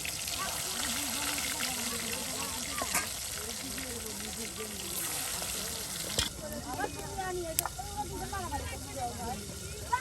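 Fish fry in hot oil at a riverside cooking spot, with a continuous close sizzle and bubbling and occasional sharp crackles as more pieces go in, while a person talks over it.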